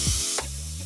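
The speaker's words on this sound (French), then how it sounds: "je vais lâcher la pression sur le circuit" A short, close hiss of air as pressure is let out of a TOOLATELIER manual brake bleeder on a BMW brake circuit, followed by a low steady hum.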